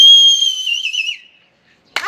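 A person whistles a single sustained high tone that wavers and slides downward before fading out, followed by a short rustle or breath at the end; near and clear.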